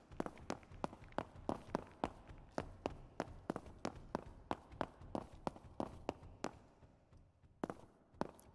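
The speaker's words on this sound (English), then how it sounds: "Oh, that's my footsteps." Player character's footsteps in the video game Project Playtime, a steady walking rhythm of about twenty crisp, fairly close steps, evenly spaced and heard alone.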